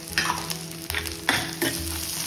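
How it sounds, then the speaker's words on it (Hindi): Onions fry and sizzle in a pan under a steady hiss, broken by several sharp scraping strokes as they are stirred at an uneven pace, with no voices. "अब हम हल्का सा प्याज को भून लेंगे।"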